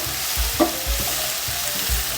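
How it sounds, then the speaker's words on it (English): Seasoned chicken stir fry with curry, thyme, chili and paprika being stirred in a pan, close scraping strokes repeating roughly every half second over a constant bright sizzle, no voices. "Give it a good stir to combine."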